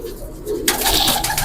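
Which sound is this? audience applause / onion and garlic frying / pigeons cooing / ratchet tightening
pigeons cooing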